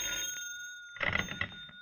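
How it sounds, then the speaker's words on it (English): In a radio drama, a telephone rings with a short jangling bell burst against a steady electronic tone and a quiet background. "you're groping for a solution when the phone rings"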